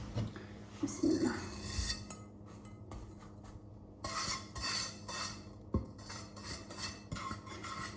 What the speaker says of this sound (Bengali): আমি কিন্তু নাড়তে নাড়তে একটা ব্রাউন কালার করে নিয়ে আসছি